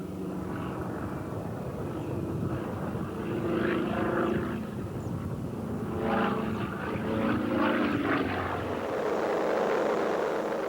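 An aerobatic race plane flies through gusty winds, its propeller engine droning steadily and loudly, swelling and fading slightly as it passes, with no voices heard.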